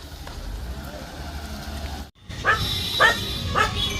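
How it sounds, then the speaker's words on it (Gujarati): Dogs bark near a hill temple trail, a few sharp yelps and whimpers followed by three clear barks in a row, close and fairly loud over low background noise. "બધા જ કૂતરાઓ આજે ભસે છે,"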